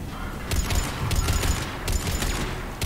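Bursts of automatic turret gunfire in the video game Mass Effect 3, three loud volleys spaced about half a second apart and sounding close.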